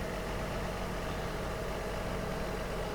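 A tractor engine idles in Farming Simulator 25, a steady, even mechanical hum that is moderately loud and close, with no talking over it.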